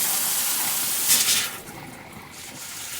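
Hot water being purged from a mobile home shower after winter antifreeze treatment gives a steady hissing rush of water and steam, with a brief louder spurt before settling to a softer flow, heard alone.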